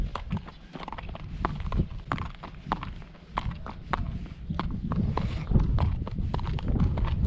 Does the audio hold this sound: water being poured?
no